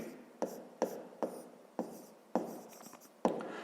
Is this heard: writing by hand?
yes